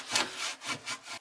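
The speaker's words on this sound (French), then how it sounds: "les grosses dents pour le découpe dans le sens du fil, ce que je suis en train de faire maintenant" A hand saw with large teeth rip-cuts wood along the grain, giving four close, rhythmic rasping strokes, each a bright scratchy push, heard alone and quite near.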